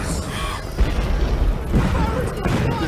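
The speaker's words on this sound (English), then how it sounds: "Fireworks!" Fireworks boom repeatedly during a cutscene in the video game Sonic the Hedgehog (2006), a dense run of loud crackling bursts with voices and cheering mixed in.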